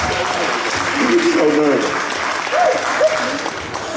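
Steady applause from a convention panel audience throughout, with a person speaking briefly over the clapping.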